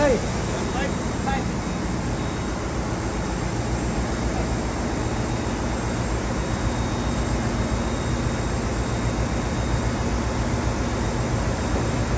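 A hydraulic pump builds pressure for tightening the main engine chain nuts aboard a ship, a loud, constant droning roar filling the engine room without pause, heavy mechanical noise throughout.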